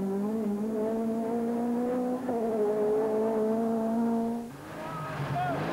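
Opel Manta rally car racing at the 1988 Donegal Rally, its engine note rising and holding as it accelerates, with a brief gear change midway before the sound drops away.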